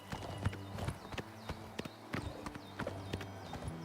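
Rhythmic clip-clop of horse hooves walking at a steady pace on a hard surface in Oblivion Remastered, close by, with no talking.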